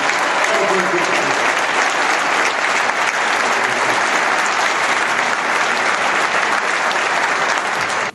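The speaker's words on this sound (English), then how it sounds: "Let's give a big round of applause for Philip and the entire team." A packed theater audience at Proctors Theater applauds in a loud, dense, unbroken roar of clapping that stays even for the whole stretch and cuts off abruptly at the end.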